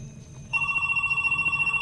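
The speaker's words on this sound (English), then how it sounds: "Why does the phone always ring?" Telephone ringing in the Cave of Ordeals in The Legend of Zelda: Twilight Princess, a steady electronic trill that starts abruptly and pulses rapidly and evenly, fairly loud and alone.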